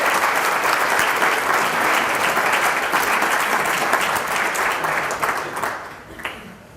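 Sustained applause from a large audience at a Hall of Fame induction ceremony, dense steady clapping that fades slightly toward the end.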